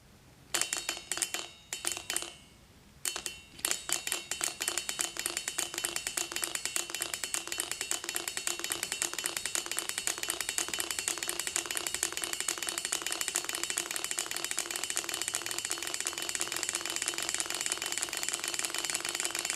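A Gatling Stirling engine with a newly replaced liner runs on a test, its rapid metallic rattling clicks settling into a fast, even rhythm after a few hesitant starts, close and fairly quiet.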